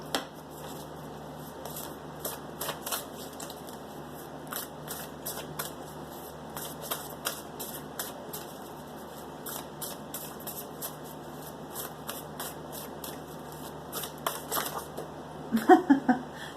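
A deck of cards is shuffled: soft, irregular riffles and card clicks keep up throughout, ending in a louder burst of shuffling at the close.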